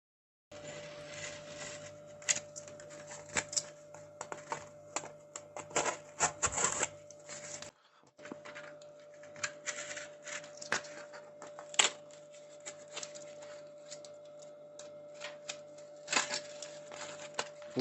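Cardboard being cut for a homemade piano craft: irregular scraping and crunching cuts in short, close bursts over a faint steady hum, with a brief pause midway.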